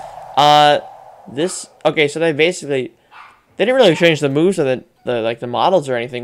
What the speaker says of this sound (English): sorry if you can hear my dogs barking.